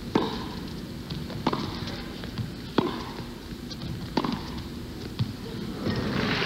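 A women's tennis rally in the 1988 Virginia Slims of Chicago final, Chris Evert against Martina Navratilova: sharp racket-on-ball pops trade back and forth at a steady pace over a murmuring indoor crowd, with faint commentary.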